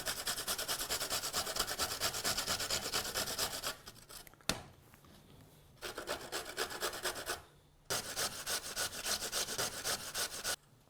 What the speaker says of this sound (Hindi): अगर मूली आपको कद्दूकस करनी है, उसे मोटा यानी कि थिक तरफ से ही कद्दूकस करें